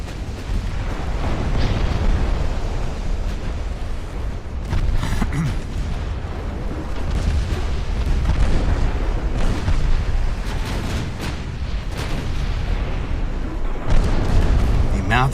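Enemy warships fire their guns in the naval game Ultimate Admiral: Dreadnoughts, producing repeated deep booms and rumbling blasts spread across the span, with a sharp report near the end and a voice talking over the battle.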